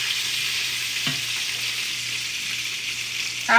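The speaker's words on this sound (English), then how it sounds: "I'm gonna put a little bit of butter in." Butter sizzles in a hot non-stick pan, a steady close hiss with a faint low hum beneath and a small clink near the end, with no voices.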